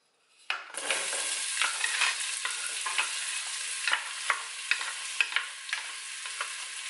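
Chopped onion hits hot olive oil in a pan for homemade peas and bursts into a loud, steady sizzle, with light scraping stir clicks throughout. The sound is close and there is no voice.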